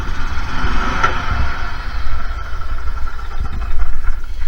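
A golf cart engine, started by its starter generator, runs steadily in a loud, continuous mechanical drone close by, with no one talking.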